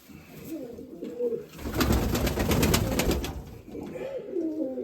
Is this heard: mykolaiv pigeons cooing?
yes